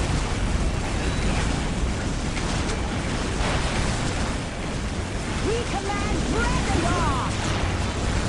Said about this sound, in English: go ahead and throw some phosphor grenades at them